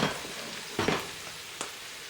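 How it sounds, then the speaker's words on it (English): Garlic frying in a pan with leftover pulled pork, a low continuous sizzle broken by a couple of brief stirring scrapes and clatters, close and fairly quiet with no voices. "And then I'm going to add in the garlic."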